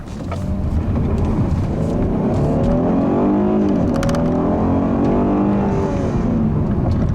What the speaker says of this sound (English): the engine in this car is it's a little bit unrefined when you get up in the higher rev range